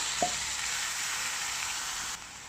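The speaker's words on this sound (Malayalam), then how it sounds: "ഇതിലേക്ക് നമ്മൾ ആദ്യം മാരിനേറ്റ് ചെയ്ത് വെച്ചിട്ടുള്ള ആ ചിക്കൻ ഒന്ന് ചേർത്ത് കൊടുക്കാം." Marinated chicken goes into a pan of frying onion and ginger, setting off a loud, steady hiss of sizzling oil that continues unbroken for a couple of seconds after a brief initial scrape.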